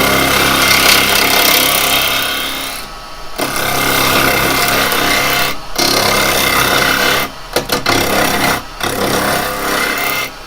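Wood spinning on a lathe and cut with a spindle gouge, producing a loud, steady rough shaving rasp that breaks off abruptly several times as the tool lifts away, then resumes.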